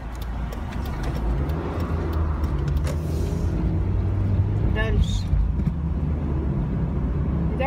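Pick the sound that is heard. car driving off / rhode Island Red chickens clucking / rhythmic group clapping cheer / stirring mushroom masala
car driving off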